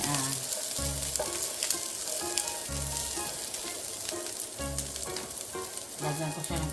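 Green beans sauté in an electric cooker with a steady, loud sizzle, broken by repeated low stirring scrapes in a regular rhythm, close up, with no talking.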